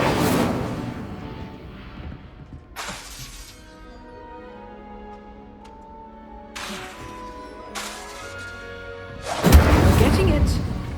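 The Incendio fire spell bursts out in the video game Hogwarts Legacy, loud crackling blasts recurring several times amid a musical score, with the last burst the strongest.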